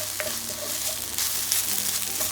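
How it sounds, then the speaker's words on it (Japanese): Vegetables stir-frying in a pan after about five minutes of cooking: steady, close sizzle and crackle with occasional stirring scrapes, continuous and without talk. "今だいたい5分ぐらい炒めてるんですが、そうすると野菜の水分が飛んで焦げやすくなってきます"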